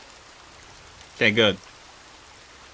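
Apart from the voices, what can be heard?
rain falling in video game Sons of the Forest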